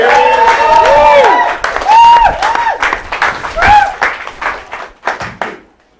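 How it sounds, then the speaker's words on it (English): Comedy club audience at the Piccadilly Comedy Club breaks into applause and cheering, loud and close, with whoops and a held shout over dense clapping that thins into scattered claps toward the end. "Loads of applause and cheering."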